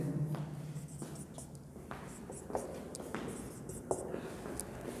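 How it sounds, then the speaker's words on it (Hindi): A pen scratches answer options onto a board or paper during a physics lecture, with soft irregular strokes and taps, faint and close, and no talk over it. "ऑप्शंस लिखता हूं मैं इसके"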